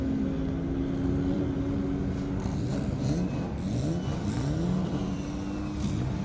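A race car accelerating flat out down a half-mile airstrip, its engine roaring steadily and rising in pitch under a constant loud drone.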